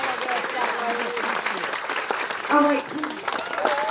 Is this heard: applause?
yes